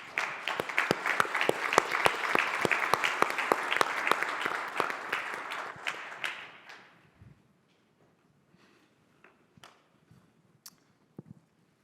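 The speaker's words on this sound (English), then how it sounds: "we should give him a round of applause" Audience at a business panel presentation on the state of manufacturing claps in a dense, steady burst for about six seconds, then it thins to a few scattered late claps and near silence.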